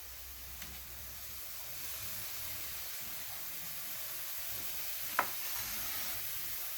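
Green peppers and onions sizzle in hot oil, making a steady, fairly quiet broadband hiss throughout with one brief sharp clink near the end; no one speaks.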